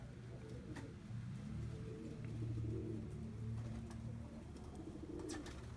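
Tippler pigeons coo in low, soft, repeated calls, a few birds murmuring quietly together at close range in a fly loft.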